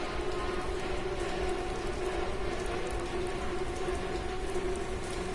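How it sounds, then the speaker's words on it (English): Rain falling in the video game The Park, a dense, steady patter of drops on surfaces with no breaks, filling the whole stretch. "where is it raining from?"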